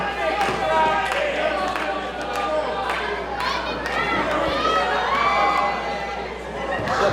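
Crowd at a wrestling event buzzing and cheering, a busy wash of chatter, shouts and scattered claps running throughout, with a louder swell of cheering midway.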